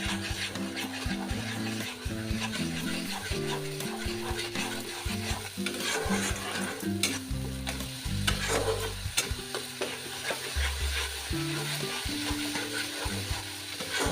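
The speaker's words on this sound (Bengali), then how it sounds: "এবার আমি এটাকে ভালো করে কষিয়ে নেব।" Lauer kofta curry masala is stirred and sautéed in a pan, with steady sizzling and frying under repeated scraping stir strokes, close and continuous throughout, with no voices.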